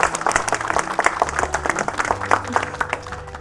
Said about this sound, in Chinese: 大家鼓掌鼓励一下。